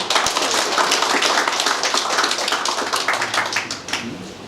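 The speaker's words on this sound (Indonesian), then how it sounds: "Kita berikan tepuk tangan." Audience members at a hybrid book discussion event clap together in a dense, steady round of applause close by, tapering slightly toward the end.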